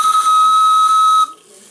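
Steam whistle on a Pendlesteam Kingdon boiler aboard a model steam boat, one loud, piercing, steady tone held for just over a second before stopping sharply, leaving a faint hiss.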